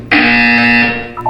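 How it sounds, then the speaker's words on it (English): A loud, flat electronic buzzer in the video game Portal 2 blares for about a second, steady and harsh, then cuts off abruptly. "You will hear a buzzer."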